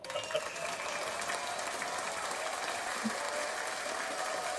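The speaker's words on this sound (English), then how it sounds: "Round of applause." Audience applause follows a comedic monologue on a talk-style podcast, a steady dense patter of clapping that holds evenly for several seconds at moderate level with no voices over it.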